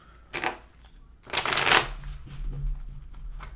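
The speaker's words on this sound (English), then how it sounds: "This deck feels good. I'll shuffle this one." A deck of cards being shuffled: a short riffle followed by a longer, louder riffle and bridge, close up with no talking.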